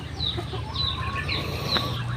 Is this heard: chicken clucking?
yes